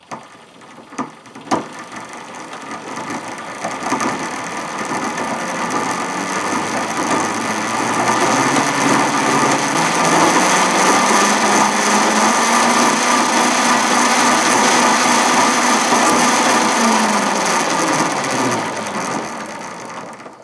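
A homemade electric ATV drive runs on newly fitted gears, giving a loud, steady mechanical whir and grinding clatter with a rising then falling tone that holds for most of the run and winds down near the end.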